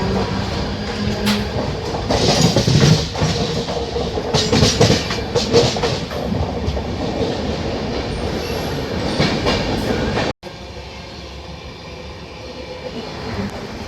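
An Intercity Express train gathers speed just after leaving Pune Junction, with a steady loud rumble and rhythmic wheel clatter heard from onboard, then a sudden cut to a quieter, smoother run.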